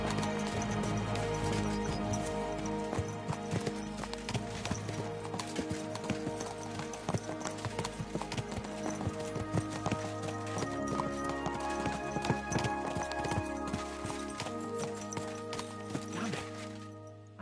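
Horses gallop in Kingdom Come: Deliverance 2, giving a steady rapid clip-clop of hooves that runs throughout under game music, with a faint whinny.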